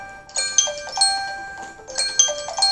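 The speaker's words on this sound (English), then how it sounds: "Oh, there's the phone." A household telephone rings indoors, sounding as a bright two-tone electronic chime repeated in two clear bursts, fairly close and loud, with no talking over it.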